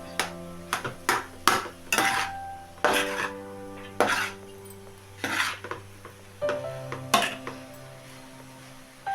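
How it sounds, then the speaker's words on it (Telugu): A spoon repeatedly scrapes and clanks against a metal pan while cooked rice is stirred into mint masala for pudina rice, giving close, uneven knocks spaced about a second apart. "అన్నం వేసుకున్నాను కదా, బాగా కలుపుకుందాం."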